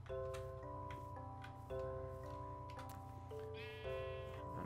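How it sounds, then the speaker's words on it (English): In the Minecraft video game, sheep bleat in short nasal bursts over steady game music with a ticking beat, the bleats recurring several times at moderate volume. "there's a bunch of sheep in here anyways."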